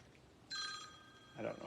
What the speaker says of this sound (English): It's my phone.